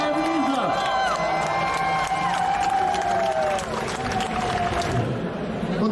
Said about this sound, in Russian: поаплодируем не только нашим топ-10, безусловно, мы им уже аплодировали, а всем, абсолютно всем участникам конкурса «Косплей Blizzard»